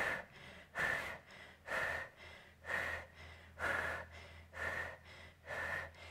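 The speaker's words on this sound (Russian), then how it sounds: "Давайте подышим дыханием капалабхати." Kapalabhati breathing during a women's abdominal fitness session: eight sharp, forceful nasal exhales in a steady rhythm about once per second, close and clear, with quiet gaps between them and no talking.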